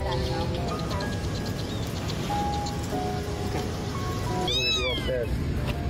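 Kittens trapped down a sewer drain give repeated high, wavering cries over a dense, noisy background, with a sharper burst of calls near the end.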